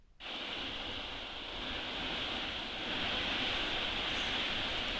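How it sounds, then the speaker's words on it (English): Heavy rain pours down on an off-grid farm in wet, windy weather, a dense steady roar that starts abruptly and swells slightly, with no voices. "And then the rain fell. And oh my gosh, did it fall? And it just kept on pouring."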